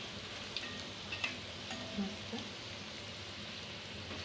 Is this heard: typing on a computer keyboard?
no